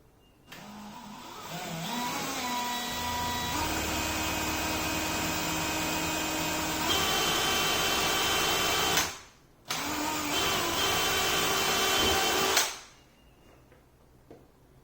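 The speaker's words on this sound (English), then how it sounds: "Pre-drill this plastic." A power drill whines as it pre-drills plastic during a kitchen cabinet renovation, its motor pitch stepping up during a long run, then a brief pause and a shorter second burst.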